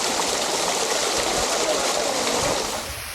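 Talakona waterfall pours with a dense, loud, continuous roar of rushing water and spray, close by. The roar eases slightly in the last half second.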